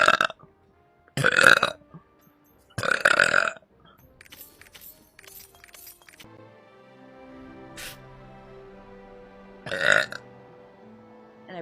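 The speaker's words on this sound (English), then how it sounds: "And I burped again." A man lets out a series of deep, loud burps: three strong bursts in the first few seconds, a few shorter ones, then a final burp near the end after a quieter stretch with faint background noise.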